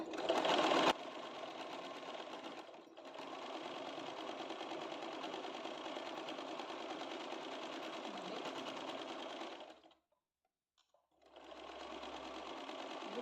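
A sewing machine stitching the side cut of a chudidar runs in a steady, close whirring drone, with one short pause before the motor starts again.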